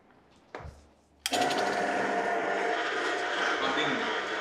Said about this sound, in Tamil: நார்மலாக ஏர்க்ராஃப்டோட என்ஜின் மாடல் இது இப்போ நான் ஆன் பண்ணி காமிக்கிறேன்